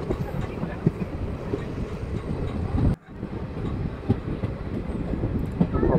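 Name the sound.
Agartala special passenger train running on rails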